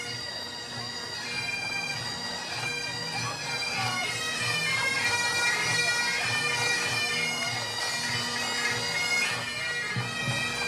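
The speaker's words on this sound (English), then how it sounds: "Bagpipes and drums." A pipes and drums band passes in the Annapolis Valley Festival Grand Street Parade in Kentville, with steady bagpipe drones and a melody over a muffled drum beat, heard from a moderate distance with outdoor crowd ambience.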